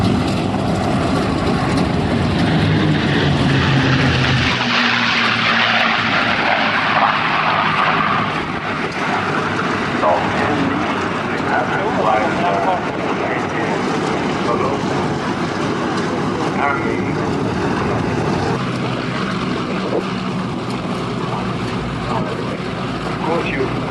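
P-51 Mustang propeller fighters roar past at the Duxford Flying Legends air show, a loud, sustained engine drone that swells and fades, with commentary voices and crowd noise underneath throughout.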